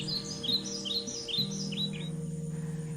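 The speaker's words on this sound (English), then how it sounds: "the birds that serenade us in the morning." Birds chirp and tweet in quick, rising bursts in the open air, singing over a steady low hum with no voices.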